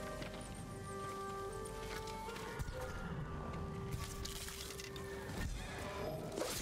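Horse hooves clip-clop in a video game, a soft and rhythmic patter under game ambience with faint bird chirps and scattered clatters.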